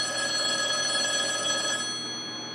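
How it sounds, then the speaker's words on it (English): A telephone rings in an animated horror story scene, a continuous electronic trill that sounds loudly for nearly two seconds and then cuts off, leaving a quiet room tone. "8:30 when the phone rang."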